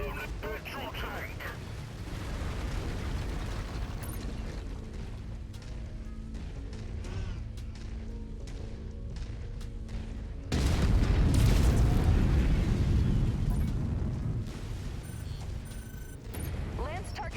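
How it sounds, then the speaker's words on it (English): A petrol tank explodes in MechWarrior 5, bursting into a loud, broad roaring blast midway that lingers and slowly fades, following a stretch of mechanical clanking and creaking; a voice speaks over parts of it. "They've blown the petrol tank."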